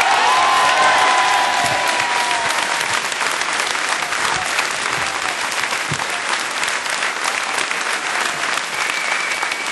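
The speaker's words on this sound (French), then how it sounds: "Je vous demande d'applaudir chaleureusement et très fort Christian Cuvillier." Sustained, loud applause from a large audience at a French election event fills the whole stretch with dense clapping, strongest at the start and easing slightly, with faint cheers mixed in.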